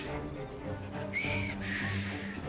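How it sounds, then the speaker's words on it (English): A man in Assassin's Creed Syndicate whistles two short, clear rising tones, faint over a soft low background hum. "I've just learned to whistle"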